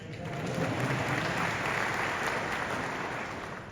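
Steady applause from a keynote audience fills a product presentation hall, a dense even patter of many hands at moderate distance, holding level for a few seconds.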